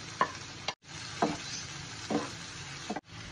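Chopped garlic, onion, diced tomato and chili sautéing in a pot, with a utensil stirring through them in several separate scraping strokes over a low background sizzle.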